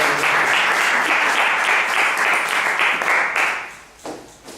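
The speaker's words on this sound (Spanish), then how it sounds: "Un aplauso para él" An audience applauds a guest speaker at a film forum, loud sustained clapping from a crowd that gradually thins and fades out toward the end, followed by a brief sound.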